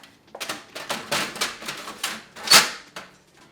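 Legal-size 8.5 by 14 paper is loaded into the tray of a Sawgrass sublimation printer, giving a run of close, sharp plastic clicks and paper rustles with one louder snap partway through.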